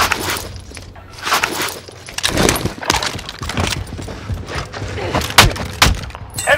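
Gunfire in Call of Duty Warzone on Rebirth Island: repeated loud bursts and sharp single shots crack in close succession over a busy game soundscape, with several heavy reports near the end.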